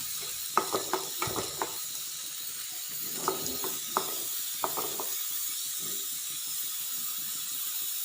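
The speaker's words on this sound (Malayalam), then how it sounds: "ഇതിനി നല്ലപോലെ ഒന്ന് ഇളക്കി ബ്രൗൺ നിറമാവുന്നത് വരെ ഇളക്കി കൊടുക്കാം" Beef curry mixture fries in a pan under a steady soft sizzle while a spoon stirs it, giving clusters of quick scraping clicks and knocks in the first few seconds that thin out to occasional taps.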